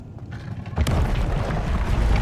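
A Revelio spell cast in Hogwarts Legacy, a single booming magical burst about three quarters of a second in that swells and then holds as a dense rumbling wash over a low game ambience, with no talk.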